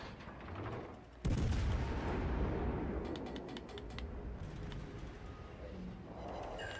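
Warship main guns in World of Warships Legends, a single heavy boom erupting suddenly, then a long rumbling decay with scattered faint clicks and crackles as it fades.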